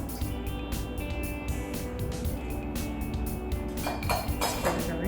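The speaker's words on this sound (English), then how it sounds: "Now I'm gonna add 3 cups of peaches." Peaches dropping into cobbler batter in a baking dish, giving soft wet plops with scattered clinks of a utensil against the dish, steady and close with no talking.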